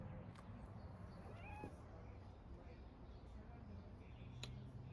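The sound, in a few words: cat meowing in the garden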